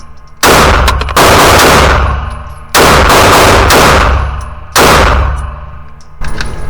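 Canik METE SFT pistol firing at a shooting range: loud, close shots in three tight bursts of rapid reports, each ringing off into a short metallic decay, with a fourth burst starting at the end.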